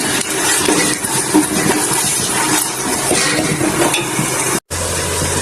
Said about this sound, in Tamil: இந்த 5 தக்காளி வந்து அதையும் போட்டு அதையும் நம்ம இப்போ நல்லா வந்து வதக்கிக்கணும்